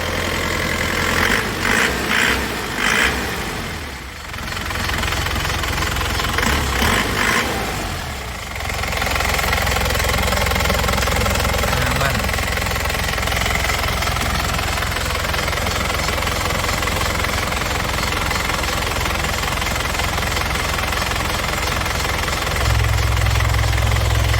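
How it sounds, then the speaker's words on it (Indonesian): A 2002 Isuzu Panther Touring engine idles with a steady, rough, knocking diesel clatter, close and loud throughout, with a slight rise in revs near the start and a deeper rumble at the end. "Sekarang yuk kita nyalakan mesinnya."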